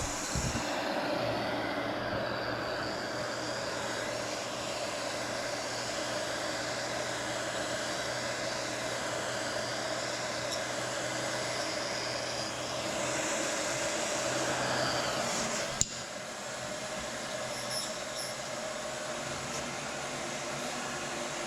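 Heat gun blowing on a plastic car bumper during repair, a steady roaring whoosh of hot air that holds for a long stretch, then ends with a click as the gun shuts off.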